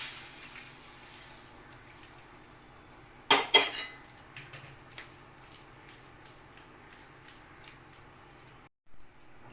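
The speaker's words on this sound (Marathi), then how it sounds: "आता याला आपण गार करायला या ताटलीमध्ये काढून घेऊया" Spoon and metal plate clinks as a cooked corn mixture is scraped from a pan onto a steel plate to cool for corn paratha, a burst of clatter midway followed by lighter scattered taps, close and moderately loud.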